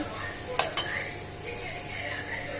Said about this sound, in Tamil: இது கொஞ்சம் நல்லா சுருள வதக்கணும்.